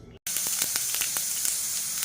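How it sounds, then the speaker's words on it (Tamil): Hot oil sizzles steadily in a pan while tempering for mor kuzhambu (Tamil buttermilk curry), a dense continuous hiss with small crackling pops, starting abruptly after a brief silence and staying loud throughout. "இது வந்து மோர் குழம்பு தாளிக்க போகிறேன். எண்ணெய் ஊற்றிட்டேன்."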